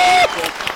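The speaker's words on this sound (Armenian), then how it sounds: "բարձր ծափարենք" Audience applause at a live evening comedy show, a short burst of clapping that follows a held tone and fades quickly.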